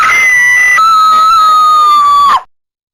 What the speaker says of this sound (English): Get used to that digital scream effect.